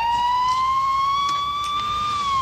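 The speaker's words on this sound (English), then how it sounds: "every time we hear the siren" A siren sounds alone, a loud, steady, high tone with a slight rise and fall in pitch that carries on throughout.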